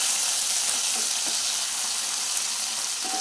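Ginger paste thinned with a little water sizzles steadily in hot oil in a pan, a constant close hiss with no voices.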